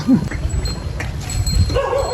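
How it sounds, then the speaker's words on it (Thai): Several dogs bark during a New Year celebration, with short yips and woofs scattered at mid-distance over a busy background murmur. "หมาเห่าเยอะเลย"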